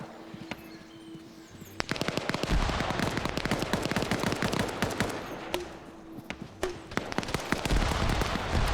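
Dense bursts of rapid gunfire crackle through a multiplayer game battle between opposing factions, many overlapping shots rattling out in quick volleys over a steady background din, with no talk.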